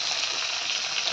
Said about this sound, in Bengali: তো মা মাছটা ভাজতে দিয়ে দিয়েছিল, আর আমি একটু মাছটা এদিকে উল্টে পাল্টে দিচ্ছি